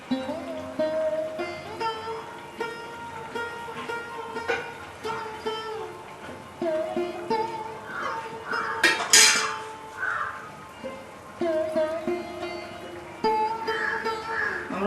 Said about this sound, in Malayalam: ഒന്ന് ചുറ്റി കൊടുക്കാവേ ചട്ടിയൊന്ന്